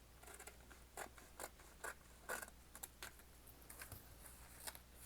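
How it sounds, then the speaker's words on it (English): Scissors snip through a notebook page in a string of short, crisp cuts, quiet and close, with irregular pauses between the strokes and no voice heard. "we're gonna cut this page apart"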